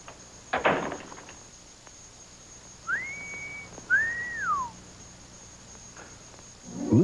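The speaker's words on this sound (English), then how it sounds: "Oh, maybe just whistle." Two clear whistled notes, a steady tone then a rising-and-falling one, separated by a short pause, with a thump before and a low sound after.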